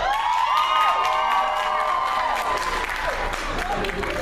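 A conference audience applauds and cheers to welcome a speaker, steady clapping filling the room with whoops rising over it, close and sustained before easing slightly.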